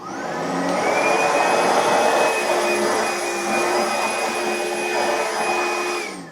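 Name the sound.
upright vacuum cleaner running on medium pile carpet, level 2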